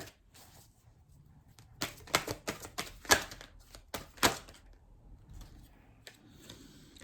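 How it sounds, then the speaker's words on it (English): Tarot cards are shuffled in a few quick bursts of crisp riffling and slapping clicks, close by, with quiet pauses between. "For some reason, I cannot shuffle these cards today."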